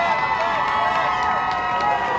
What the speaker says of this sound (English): Round applause, ladies and gentlemen.